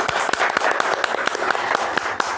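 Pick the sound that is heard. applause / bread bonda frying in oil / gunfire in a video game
applause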